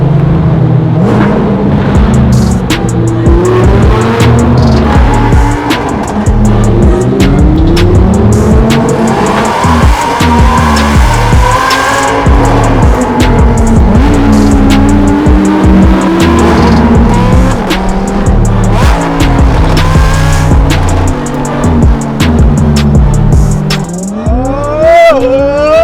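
A 2018 Lamborghini Huracan Performante in Corsa mode roars loudly and continuously from inside as it drives toward and into a tunnel, engine note rising and falling through gear changes, with a sharp rising rev near the end.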